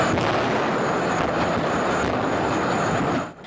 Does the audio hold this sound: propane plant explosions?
yes